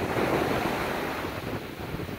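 Ocean surf rolls and breaks steadily on the beach at Rodanthe in the Outer Banks during surf fishing, a loud continuous wash mixed with wind buffeting the microphone.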